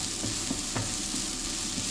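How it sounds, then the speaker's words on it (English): Onions frying in a pan on a stove, a steady soft sizzle with faint crackles and occasional light stirring scrapes, fairly quiet and without voices. "we're just going to cook these onions until they become translucent"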